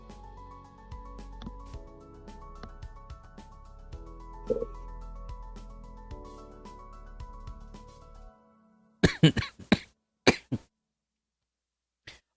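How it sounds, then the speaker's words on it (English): Lingering cough after RSV: a run of several sharp, close coughs in quick succession, following a stretch of quiet background music with a faint voice. "I will be so happy when I lose this cough."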